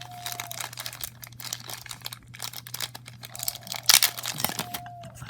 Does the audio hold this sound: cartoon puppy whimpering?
no